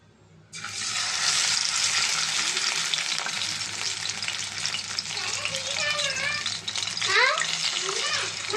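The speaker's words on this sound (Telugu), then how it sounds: "ఆయిల్ అయితే బాగా వేడైపోయిందండి ఇప్పుడు మనం దీన్ని చేపని వేసేసుకుందామండి" Fish dropped into hot oil in a pan, starting with a sudden loud hiss that settles into a dense, steady sizzle with crackles, lasting several seconds.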